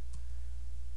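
A single computer keyboard Enter key press clicks once near the start after typing ipconfig in a command window, then faint steady hum fills the rest.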